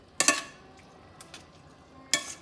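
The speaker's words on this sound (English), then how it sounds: "We're going to take the spaghetti right out of the pot." Spaghetti lifted straight from a pot of cooking water into a pan, heard as a few sharp clattering bursts of utensil and cookware contact separated by quiet pauses.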